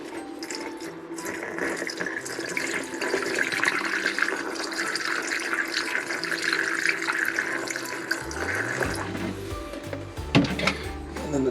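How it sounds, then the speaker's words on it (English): Antifreeze poured into the shower drain of a Coachmen Nova 20C RV during winterization, a steady liquid trickle and splash lasting several seconds, with handling knocks near the end. "One thing you don't want to forget is the drain in your shower, to give it some antifreeze."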